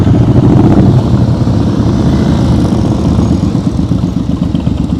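A motorcycle engine runs loud and close at low speed, a steady throbbing putter that eases off slightly as the throttle rolls down, no voices over it.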